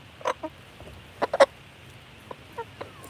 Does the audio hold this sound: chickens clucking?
yes